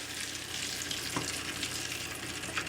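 Tortillas fry two at a time in very hot oil in a warped pan, a close, steady crackling sizzle throughout.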